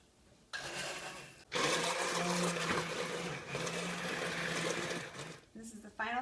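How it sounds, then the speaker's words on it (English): An immersion blender whirs steadily, close and loud, as it purees vegetable broth with kombu, garlic powder and onion powder in a kitchen, running in two long stretches with a brief pause between. "Now I'm going to take a handy immersion blender."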